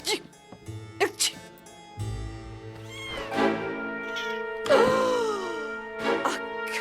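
A cat meows in a house in an animated Heidi scene, several drawn-out, rising and falling cries heard close and clear, mixed with brief cartoon noises and short voice sounds around them.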